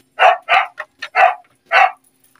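A dog at bath time, one of two named Chow and Sky, gives five sharp, close barks in an uneven run, alone with no talk over them.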